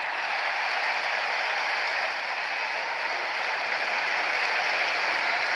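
A cricket crowd roars after a wicket falls, a steady, broad wash of cheering and applause that holds at full strength from start to finish.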